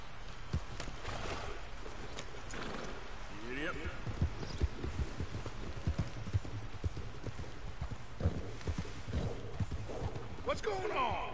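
Horse hooves clip-clopping at a steady gallop in the open-world game Red Dead Redemption 2, a continuous rhythmic beat of moderate loudness running under background game sound, with voices talking at moments.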